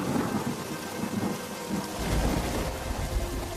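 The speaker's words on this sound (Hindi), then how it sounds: "अचानक से जोर का तूफान आया और बारिश शुरू हो गई" Heavy rain pours down steadily during a thunderstorm while a deep roll of thunder swells in partway through, loud and close, with no voices.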